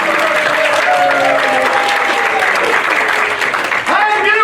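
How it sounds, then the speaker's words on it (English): A packed auditorium audience at an evening of readings in Joliet claps loudly and continuously, a thick wash of applause with voices and cheers layered over it. "The packed auditorium erupted with applause."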